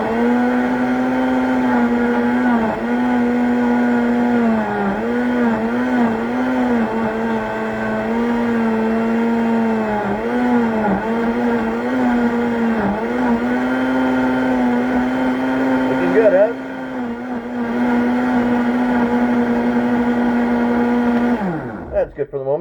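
A blender runs nonstop on kale, a loud steady motor whine with a slight wavering pitch that dips briefly near the end before cutting off.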